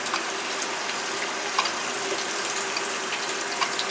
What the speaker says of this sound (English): He's a leaker. It's squirting out all over the place.